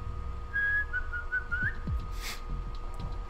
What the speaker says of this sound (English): Whistle again.